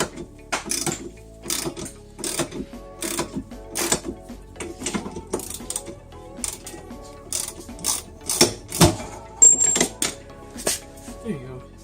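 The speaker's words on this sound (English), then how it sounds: "So grab a big ratchet." A big ratchet loosens nuts on a Honda Civic coilover, giving bursts of close, sharp clicking and clunking metal mechanism sounds in irregular runs, with occasional talk mixed in.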